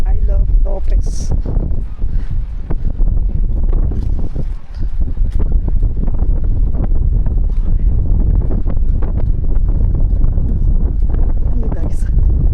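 Strong wind roars across an open mangrove walkway, buffeting the microphone in a loud, continuous rush with heavy low rumble, and a person speaks briefly over it.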